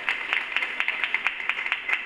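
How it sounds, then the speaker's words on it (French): A small audience claps together in an even, fairly quick rhythm of about ten distinct claps, close and moderately loud with no talk over it. "Applaudissez pour elle encore."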